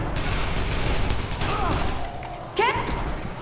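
Gunfire in the video game Dead Island Riptide. Bursts of shots crackle over a busy, noisy game mix, with a sharper crack near the end.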